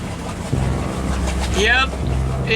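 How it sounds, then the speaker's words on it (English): A sailboat's auxiliary engine motoring, a steady low droning hum with wind noise over it and a person speaking across the sound. "That's the sound of the Iron Jenny."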